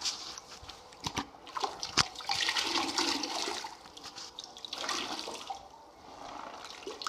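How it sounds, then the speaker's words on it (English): A grout sponge plunged and wrung out in a bucket of dirty grout water, giving sloshing, splashing and dripping water sounds that swell and fade in bursts, close and fairly loud with no talking. "Wring it out real good."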